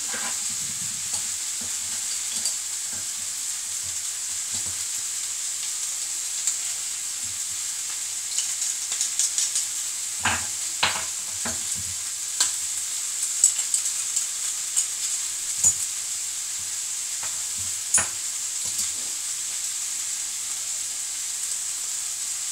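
Onion and garlic frying in a pan for jambalaya, a steady bright sizzle running throughout with scattered spoon scrapes and taps as the pan is stirred, close and without talk.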